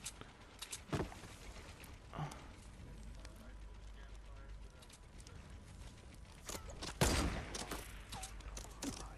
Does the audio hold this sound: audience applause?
no